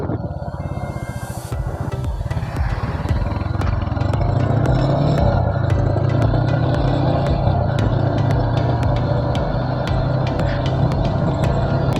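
A Royal Enfield Hunter 350 motorcycle on the road, its engine thumping steadily and loud with a low rumbling drone and wind noise as it rides along at an even pace.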